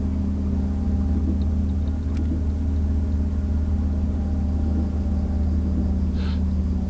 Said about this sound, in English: It sounds, you know, it sounds quite good, the train.